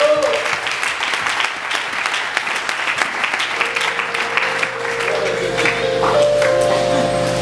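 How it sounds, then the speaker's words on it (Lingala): Congregation applauding loudly during a church service in Kinshasa, a dense steady wash of clapping hands that continues throughout with a sustained tone and some voices mixed in. "Applaudissez fort pour le Seigneur."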